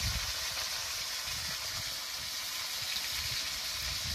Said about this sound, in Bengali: এবার আলুগুলোকে ভালো করে নেড়ে চেড়ে ভেজে নেব